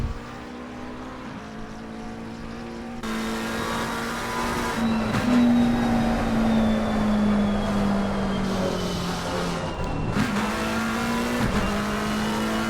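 A race car engine in an Xbox racing game during an onboard lap of the Zolder circuit, droning steadily then surging louder as it revs up and down through gears and corners, alone without talk.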